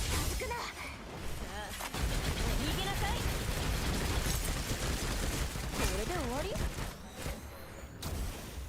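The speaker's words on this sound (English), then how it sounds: "But I need to shoot." Rapid gunfire and bursts of shooting in the game Snowbreak: Containment Zone, a dense, continuous barrage of shots and impacts, with in-game voices and effects layered over the firing throughout.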